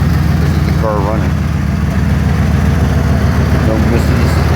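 A Ford Thunderbird engine idles with a worn exhaust: a steady, loud, rough low rumble that continues evenly throughout.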